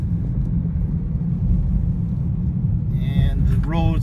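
Continuous low road rumble of a car rolling slowly into ET Seton Park, steady and close, with a short burst of rising and falling tonal chirps near the end.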